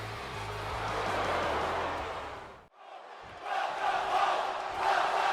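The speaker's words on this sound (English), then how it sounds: "This crowd, based on the chants happening right now, firmly behind the visionary Seth Rollins" Crowd noise from the video game WWE 2K25, chanting during a Finn Balor versus Seth Rollins main event, a loud sustained roar that cuts out briefly midway and then swells back.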